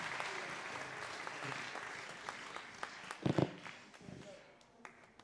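A crowd applauds, a dense wash of clapping that gradually thins and fades, with a few louder sharp claps near the end.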